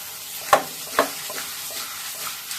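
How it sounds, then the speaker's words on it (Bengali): Spices stirred and mixed in hot oil: a soft steady sizzle with two crisp scraping knocks of a utensil against the pan near the start, then quieter stirring. "সব কিছু ঢেলে দিলাম, ঢেলে একটু মিশিয়ে দিই।"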